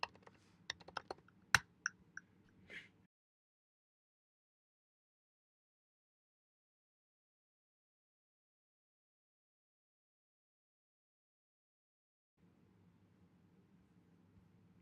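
Keys clatter in a quick burst of close, crisp taps and a paste shortcut on a computer keyboard while configuring a cloud server deployment, then near silence with a faint low hum near the end.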